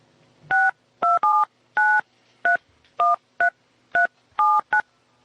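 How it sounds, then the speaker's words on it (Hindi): Ten quick touch-tone beeps as a phone number is keyed in, each a short two-note chirp in an uneven rhythm, clear and close with no talking. "मैं सोचती फोन कर लेती हूँ।"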